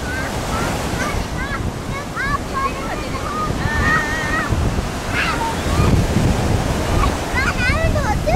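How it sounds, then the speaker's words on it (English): Ocean waves wash continuously up onto a Hawaii beach in a steady, close surf roar, with children's voices calling out over the water throughout. "Oh, here comes the water."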